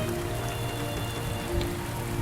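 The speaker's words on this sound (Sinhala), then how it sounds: "ගිගුරුම් සහිත විශාල වැස්සක් ඇදහැලෙන්නට පටන් ගත්තේ" Heavy rain pours steadily in a dense, continuous hiss with low rumbling undertones, filling the scene without pause as a thunderstorm downpour sets in.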